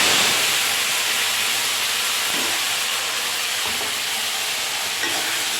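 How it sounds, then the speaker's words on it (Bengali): A spice paste of tomato, ginger, poppy seed, green chilli, ground spices and melon seed paste sautés in hot oil, giving a loud, continuous sizzle and hiss with a few soft stirring scrapes, close up and without talk. "তো এটা এবার আমি কষবো।"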